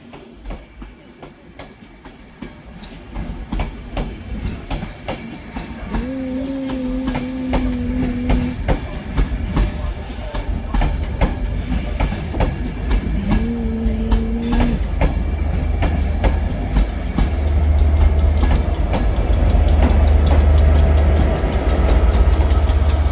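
A Transport for Wales service with Freightliner 67013 on the rear departs Manchester Piccadilly for Cardiff Central, its locomotive engine droning steadily, with a two-tone horn sounding twice and rumble building toward the end.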